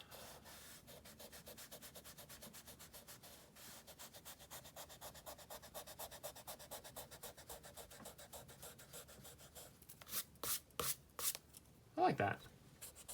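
An eraser rubs back and forth on drawing paper in a long run of fast quiet strokes, then a few louder, slower scrubbing passes close by.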